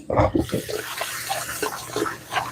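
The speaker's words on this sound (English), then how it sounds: "Always rinse your farm-raised shrimp. Give it another rinse." Farm-raised shrimp are rinsed under a running kitchen tap, with water splashing steadily and close against the shrimp and sink, a brief washing rush with no voices.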